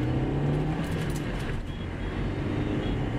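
A new car on a test ride pulls away in first gear, giving a steady, loud engine drone with road rumble that holds without break and rises slightly in strain.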